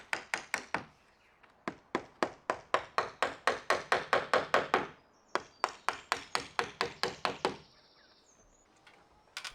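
Timber fascia boards being nailed onto a flat-roofed garden room: a close, loud run of sharp hammer blows in a steady fast rhythm, broken by a brief pause and then a second volley, with no talking.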